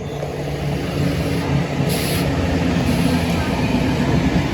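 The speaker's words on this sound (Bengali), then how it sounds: "লোকাল ট্রেন আমাদের ওভারটেক করছে" A local train passes alongside near Dum Dum on the Sealdah line, giving a steady, loud rumble of wheels and wagons with a brief high squeal of rails or brakes, no voices over it.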